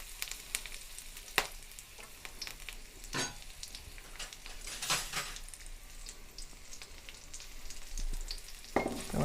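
Herbs fry in a pan while masala is made for chicken gravy: a quiet, crackling sizzle with scattered sharp pops and stirring clicks, heard alone without talk.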